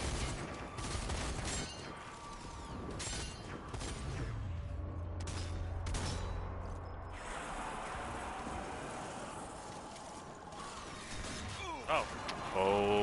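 Chaotic battle noise from the zombie shooter Zombie Army 4, with bursts of explosions and gunfire layered over a continuous din while players talk throughout.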